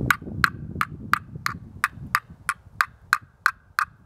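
A striker drawn across a turkey slate call imitates a Merriam's hen, giving about a dozen evenly spaced sharp yelps, loud and close, with a soft rustle underneath.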